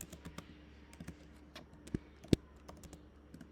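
Java code being typed on a computer keyboard: quiet, close, irregular key clicks in quick runs, with a couple of sharper, louder keystrokes standing out over a faint background hum.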